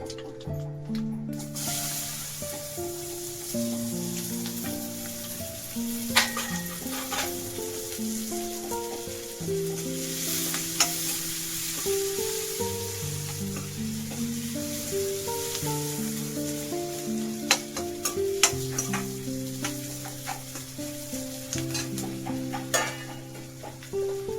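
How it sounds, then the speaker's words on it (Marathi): Chopped onion hits hot oil already holding cumin, mustard seeds, fenugreek seeds and asafoetida for a spiced okra-in-yogurt dish, giving a steady, moderate sizzle and soft stirring beneath gentle background music. "मेथी दाणे थोडेसे टाकले हिंग आता टाकूया कांदा"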